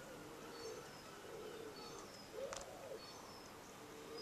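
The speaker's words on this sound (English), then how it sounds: "Was that a pigeon? I think it's a pigeon, isn't it?" Soft, low cooing notes from a pigeon repeat a few times at a distance, faint over outdoor background noise.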